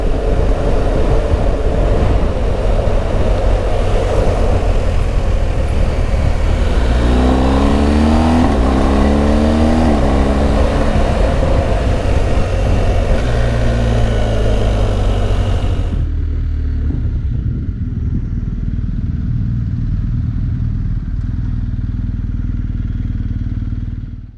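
BMW R1250 GS Adventure motorcycle riding the Transalpina mountain road in Romania, with a loud, steady engine drone and rushing wind that shifts pitch mid-ride as the bike changes speed, then settles to a lower, calmer hum.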